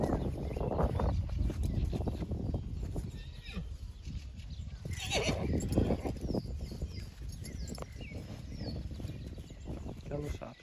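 A mare kept with her filly gives a whinny among nearby farm animal sounds, partly mixed with people talking close by.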